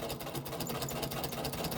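A sewing machine stitches down quilt binding with mitered corners, its needle running in a quick, even, close-up rhythm throughout, fairly quiet and with no talking.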